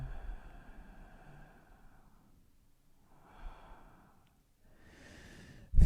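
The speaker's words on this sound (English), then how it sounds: "You might be hearing me breathe kind of heavily because I have a wireless mic on." Heavy, slow breaths sound close and soft through a wireless clip-on mic during a quiet T'ai Chi Chih session: three drawn-out exhales separated by near silence.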